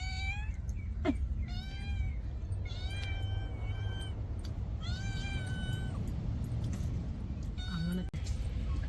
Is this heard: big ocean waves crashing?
no